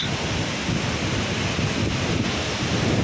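Loud, steady roar of rushing water with broadband noise and rumble, continuous throughout with no voices, from Jang waterfall in Tawang, Arunachal Pradesh, close by.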